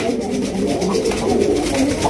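Pigeons in a fancy-breed loft coo in soft, rolling, repeated phrases, close and fairly clear, with no talk over them.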